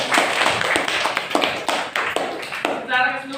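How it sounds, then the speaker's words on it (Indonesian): A class applauds student groups with quick, evenly spaced rhythmic claps, a burst every fraction of a second, and a voice briefly enters at the end. "Tepuk tangan untuk kelompok 1 dan kelompok"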